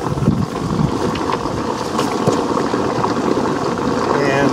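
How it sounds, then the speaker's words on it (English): Strong wind blows outdoors at a work site, a loud constant roar and buffeting against the microphone throughout, with some faint voice-like sounds in the noise. "It's gotten super windy"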